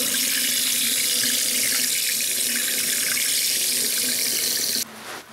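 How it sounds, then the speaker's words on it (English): Cold tap water gushes loudly and steadily into a bathroom sink during face washing after a shave, a close, continuous stream that cuts off abruptly near the end. "By washing the face with some cold water, just to close the pores."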